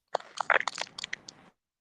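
Sharp crunching bites like ice being chewed, a quick cluster of close, loud crunches lasting just over a second and standing alone against silence.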